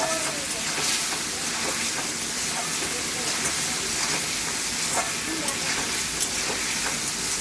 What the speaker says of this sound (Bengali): ওই ডিমগুলো আমি ওই কারি মশলাটাকে দিয়ে দিলাম, দিয়ে ভালো করে কষিয়ে নেব